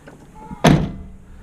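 A truck door on a slight incline swings shut from fully open onto a newly replaced striker bushing, giving one solid, fairly muted thunk with a short rattle after it.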